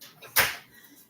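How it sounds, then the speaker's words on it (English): A door is shut indoors with a single close, solid thump and a brief rattle, preceded by faint shuffling and followed by quiet room tone. "I'm going to shut the door."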